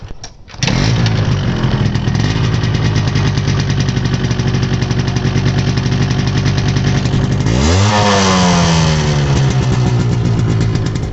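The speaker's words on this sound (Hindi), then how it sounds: "यामाहा की RX 100 और RX 135 दोनों ही जानी जाती थी अपने लेजेंडरी एग्जॉस्ट नोट के लिए।" A Yamaha RX-135 five-speed two-stroke motorcycle exhaust starts up and idles loudly with a buzzy, crackling note, then revs up sharply near the end before settling back.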